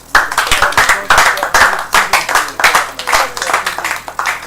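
An audience claps in a lively, uneven rhythm, many hands striking close and loud in repeated bursts for several seconds, with no voices rising above it.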